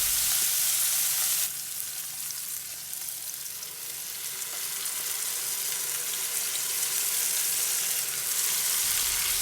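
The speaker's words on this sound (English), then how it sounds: "Now let's add the paneer and fry it a bit." Paneer fries in a pan with a loud, broad sizzling hiss that dips briefly and then swells again, heard up close with no one talking.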